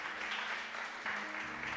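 A church congregation applauds for the Lord with a steady wash of clapping from many hands, fairly distant and even, with a brief swell partway through.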